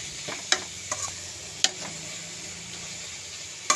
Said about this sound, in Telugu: ఆకుకూర కానీ కూరగాయలు కానీ పోపుకు వేసినప్పుడే వెంటనే సాల్ట్ వేసుకోవాలి అప్పుడు చక్కగా కూర దగ్గరగా మంచిగా ఉడుకుతుంది